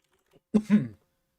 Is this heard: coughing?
yes